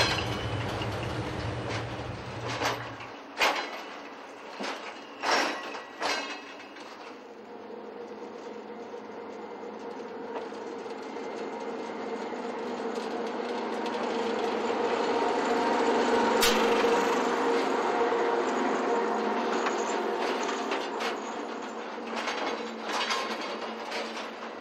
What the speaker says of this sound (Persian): سنگ‌ها به وسیله شاول به واگن‌هایی با ظرفیت 55 تنی بارگیری و توسط راه آهن به مراکز مصرف انتقال می‌یابد.